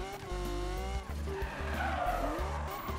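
Racing cars in the video game Need for Speed 2015 on PS4, engines whining with rising pitch as tires squeal and skid through a drift, loud and continuous.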